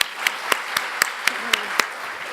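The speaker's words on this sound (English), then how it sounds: "please join me in a round of applause for Pam." Audience applause at a welcome and introduction event comes as a short, evenly spaced run of crisp claps, fairly close and loud.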